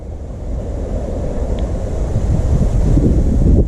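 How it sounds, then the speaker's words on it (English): Strong wind buffets the microphone beside a fishing lake with a continuous low roar that grows slightly louder toward the end, with no voices. "Really windy."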